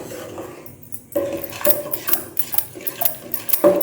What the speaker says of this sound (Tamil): நல்லா கெட்டியாகட்டும். சிறு அனலில் இருந்தும் கிளறி விடுங்க